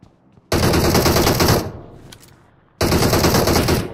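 M4 rifle gunfire in a video game, two loud sustained automatic bursts close up, the first around a second long and the second running to the end, separated by a quieter gap.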